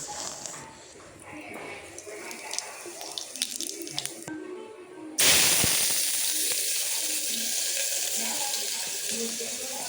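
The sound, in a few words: mustard seeds and cumin sizzling in hot ghee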